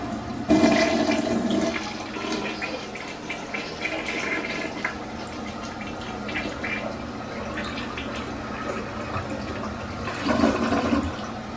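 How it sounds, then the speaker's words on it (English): A household toilet flushing close by, with a loud initial rush of water followed by a long, steady swirl and draining, then a brief renewed surge near the end, alone with no talk. "Let's get a flush."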